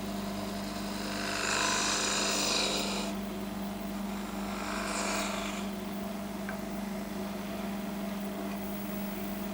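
Gouge entry cut opening a cove in a spindle on a wood lathe: two short scraping bursts of the tool over a constant motor hum, close and moderately loud, then just the lathe running with no talk.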